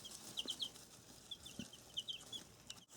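Soft, high chirps and peeps from week-old chicken chicks come in short bursts, with faint rustling and scratching underneath; no voices.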